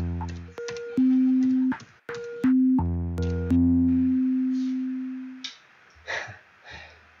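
A simple synthesized tabla plays a transcribed beat with sparse, resonant tuned strokes, some ringing drones and short muted taps in an uneven rhythm, thin and electronic in tone, with no voices.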